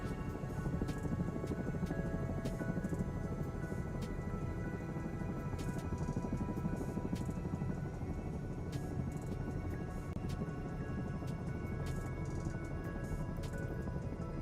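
A helicopter rotor runs down in a steady, close whirring drone with constant low rumble and scattered ticks and clicks throughout, no talk over it.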